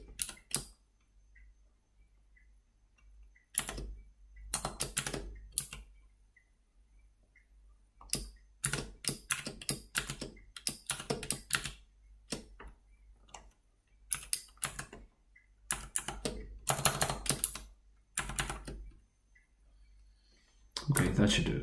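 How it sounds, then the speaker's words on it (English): Typing on a computer keyboard while entering Python code for a micro:bit-to-Firebase serial project: irregular bursts of close key clicks and taps separated by pauses, with no talk. "Let me just type some of this in."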